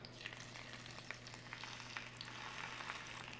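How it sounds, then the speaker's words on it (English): Steady crackling sizzle of salmon skin searing in a hot pan, continuous and even, with scattered small pops over a low hum. "When you hear that sizzle, that's exactly what we're looking for."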